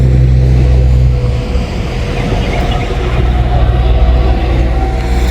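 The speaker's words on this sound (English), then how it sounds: "That is the train that I've been waiting on." A train rolls past on the rails as a low, steady rumble with a strong bass drone, loud and close, continuing throughout with faint clatter above it.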